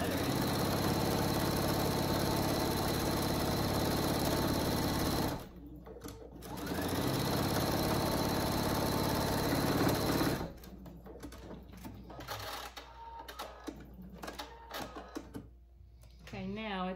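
Two long runs of a sewing machine stitching a seam on a pillowcase dress, loud and steady with a rapid mechanical patter and a brief pause for the backstitch between, followed by softer handling sounds and talk.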